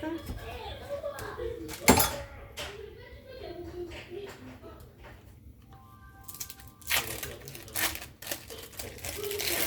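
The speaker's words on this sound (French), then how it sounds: "Je suis en train de couper à côté une tranche de tomate." A knife slices through a tomato on a cutting board in a home kitchen, giving a few sharp taps and clinks of blade and dishes amid soft handling clatter, with a voice murmuring faintly in the background.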